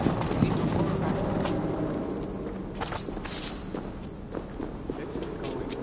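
Horse hooves clopping steadily in Assassin's Creed Valhalla, a continuous walking rhythm under a low rumble, with faint game voices talking over it.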